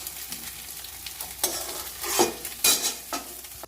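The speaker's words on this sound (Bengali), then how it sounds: "ডিমটাকে ধীরে ধীরে করে ভেজে নেব।" An egg frying slowly in a pan, part of a restaurant-style tarka recipe: a steady soft sizzle with a few louder bursts of spatula scraping and stirring, close and alone without voices.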